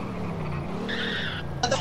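A car skids with a short, high tire squeal cutting through steady road and engine rumble, followed by a brief second screech near the end, with voices talking over it.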